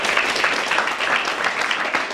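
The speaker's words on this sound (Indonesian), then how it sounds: "Nah, oke, tepuk tangan dong." Audience applause at a business seminar on franchising and network marketing: dense, steady clapping from a crowd, loud and close, filling the whole moment without a break.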